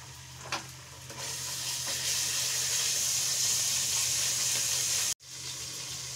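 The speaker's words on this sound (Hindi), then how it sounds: "अब हम इसमें गार्लिक जिंजर पेस्ट ऐड करेंगे और उसे धीमी आंच में पकाएंगे।" Garlic ginger paste sizzles steadily in a pan on a low flame while a Kerala-style fish curry is cooked, a continuous close frying hiss with a brief stir near the start and a short break near the end.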